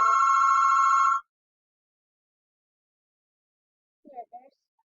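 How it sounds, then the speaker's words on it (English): A telephone bell rings loudly and steadily for just over a second, then stops, with a brief faint sound a few seconds later in a quiet room. "Sorry, that's the phone."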